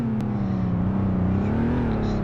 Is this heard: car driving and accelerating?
yes